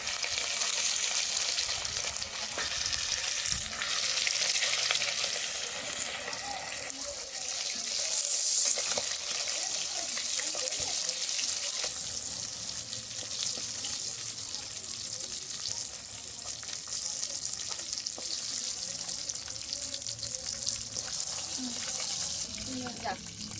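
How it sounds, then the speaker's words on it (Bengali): Pieces of Katla fish fry in hot oil in a home kitchen and give off a continuous, fairly loud sizzle with occasional spits and pops. Faint voices and stirring come and go beneath it. "মাছ ভাজা হয়ে গেছে, আরেক দিয়ে দিচ্ছি"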